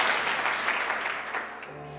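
A church congregation applauds to acclaim the Lord, a soft wash of clapping that fades gradually over two seconds.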